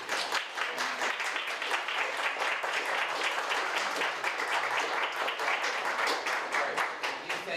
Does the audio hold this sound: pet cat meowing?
no